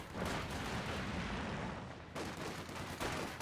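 Close-range infantry firefight in Company of Heroes 2, grenadiers and conscripts trading rifle and machine-gun fire in a dense, continuous crackle with a brief lull partway through, moderately quiet overall.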